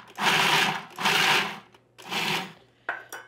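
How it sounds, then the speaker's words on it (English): Food processor pulsing walnuts with sugar for baklava filling: three loud whirring bursts of about a second each with short gaps, then a brief quieter rattle at the end. "I chop these a little bit to start by pulsing"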